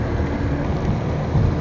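Heavy rain roars steadily during a Honda ADV160 scooter ride on the Infanta–Quezon road through fog, a dense low wash of rain and wind with no break.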